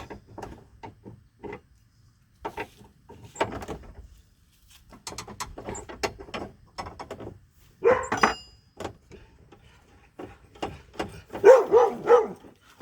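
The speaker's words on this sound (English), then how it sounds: "That's our dog Hobbs chasing birds in the background." A dog chasing birds barks in several bursts at a distance, scattered over a quiet background with occasional clatter nearby.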